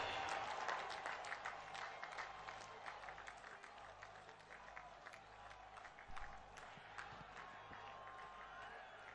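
Distant crowd applause and cheering welcome the Prime Minister at a political rally in Dhekiajuli, Assam, a steady roar of clapping sustained throughout without a break.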